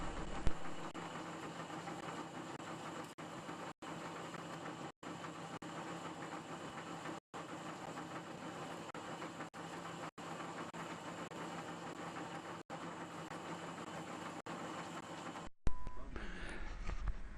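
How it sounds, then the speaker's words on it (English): A machine drones steadily and loudly while reaming a bore to size for the handlebar stem in a Cyclemaster restoration. The hum is broken by several brief dropouts and shifts in character near the end. "Here I'm reaming the bore to size for the handlebar stem."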